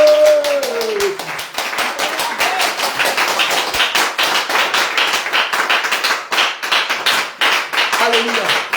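A church congregation claps steadily in acclamation, with fast, loud, continuous rhythmic hand claps that fill the room, while a voice speaks and calls out over them.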